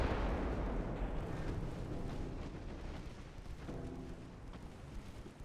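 Distant, low booming rumble of warship main battery salvos in the naval game Ultimate Admiral Dreadnoughts, a heavy dull roar that slowly fades across the clip.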